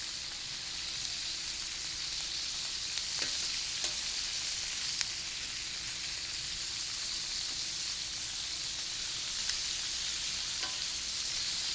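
Meat sizzles steadily on a 22-inch Blackstone griddle at a campsite, a loud, continuous hiss with a few faint clicks and scrapes.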